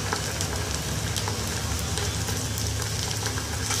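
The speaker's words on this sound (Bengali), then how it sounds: "এটাকে আবার হালকা একটু ভেজে নেব।" Ginger and garlic paste frying with onions in a pan for Bengali alur dum, giving off a steady, even sizzle with no pauses and no talking.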